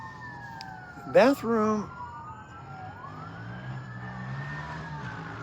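Emergency vehicle sirens wail outside, their rising and falling pitch sweeping faintly in the distance while a person talks nearby with a brief loud burst of voice.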